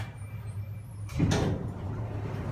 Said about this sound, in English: Oh, door closes instantly.